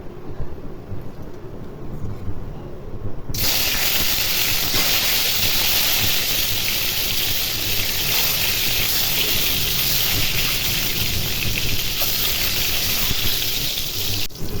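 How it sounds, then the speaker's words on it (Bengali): Eggs rubbed with salt frying in hot oil for an egg and potato curry, a loud, steady broadband sizzle that bursts in abruptly after a quieter start and holds continuously throughout. "তেল গরম হয়ে গেছে, এখন ডিমগুলো ভেজে নেব।"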